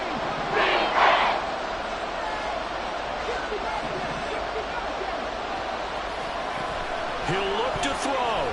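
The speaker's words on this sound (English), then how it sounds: "This crowd turning up the decibel level." Loud stadium crowd roar in an American football video game, Buccaneers against Saints, a steady dense wall of noise with louder swells near the start and end.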